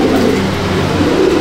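Old-line Madrasi pigeons coo in a steady, close, continuous murmur with soft layered calls and no voices.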